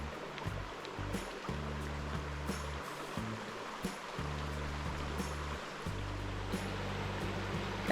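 Creek water trickles and burbles steadily at a crossing in Carnarvon Gorge, under a deep, uneven low-frequency rumble like wind buffeting the microphone outdoors, with no talking.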